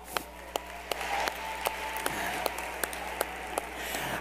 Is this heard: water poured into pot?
no